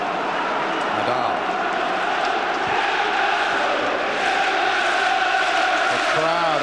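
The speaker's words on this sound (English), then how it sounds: "The crowd are cheering to get behind Newcastle now" Football crowd at a 1997 Champions League match between Newcastle and Barcelona, a steady, dense roar of cheering and chanting that runs throughout under a commentator's voice.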